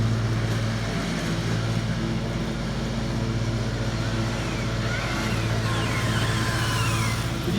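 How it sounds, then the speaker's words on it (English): A neighbor's lawn mower runs steadily as a constant low engine drone throughout, moderately distant and continuous, with faint higher whirring layered on top. "Sorry for the noise, neighbor's mowing his lawn"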